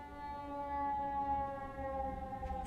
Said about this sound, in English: And sirens.